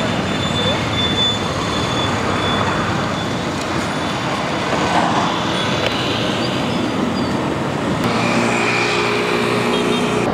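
A light electric vehicle carrying two people drives through traffic and swings through a U-turn, with steady road and traffic noise rumbling throughout and passing vehicles nearby.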